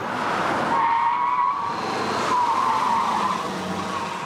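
A car pushed hard by a racing-trained driver on a road test gives a loud tire squeal and engine strain, with sustained skidding tones that ease and return over several seconds.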